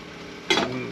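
Sausage sizzling in a pan with rice, peppers and onions aboard a sailboat: a quiet background that jumps into a sudden burst of crackling sizzle as the sausage goes in, then a softer lingering fry.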